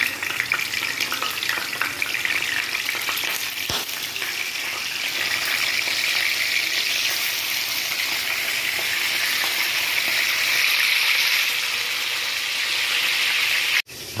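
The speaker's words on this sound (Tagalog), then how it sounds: "magpirito ako ng isda" Fish frying in hot oil for pinakbet, a steady dense sizzle that holds loud and even throughout with no talking, cutting off abruptly at the end.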